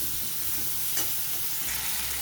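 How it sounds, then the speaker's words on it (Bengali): Mango pieces fry in oil for a mango pickle, giving a soft, steady sizzle with faint stirring scrapes and no talk. "তেলের মধ্যে দিয়ে আমি আমগুলোকে খুব ভালো করে ভেজে নিচ্ছি"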